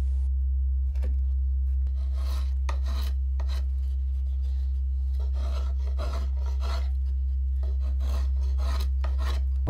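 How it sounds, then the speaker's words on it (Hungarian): A drawknife carves wooden spokes for a light Hungarian peasant cart wheel, making repeated rasping scrapes in quick irregular strokes close by, over a steady low hum. "a mester vonókéssel faragta végső formájukra őket"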